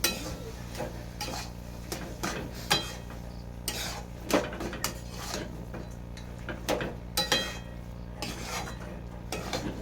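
Chicken being stir-fried with potatoes in a pan, a utensil scraping and knocking against the metal in repeated irregular strokes over a low steady hum, with no talk.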